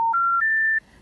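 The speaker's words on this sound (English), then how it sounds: "You know those 3-note special information tones that signal a non-working number?" Three rising special information tones that signal a non-working telephone number, each pure note clear and close, stepping up in pitch, with the last held longest before cutting off.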